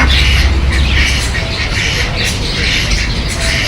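Near a Subrahmanya Swamy temple, a duck gives a run of harsh squawking calls at close range, repeating over a steady wash of outdoor noise with a low rumble underneath.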